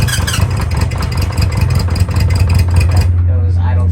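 A 1973 Honda CB 350 Four motorcycle engine idles steadily up close, a low even thrum that carries on alone for about three seconds and then keeps running under a brief voice near the end.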